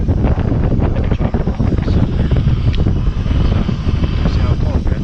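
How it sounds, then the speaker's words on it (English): Strong wind on a frozen lake buffets the microphone with loud, constant roaring gusts, which mask almost everything else. "Real windy here."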